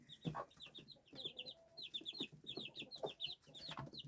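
Chicks cheep and cluck in quick bursts of high peeps, close by, with softer lower clucks from a hen mixed in.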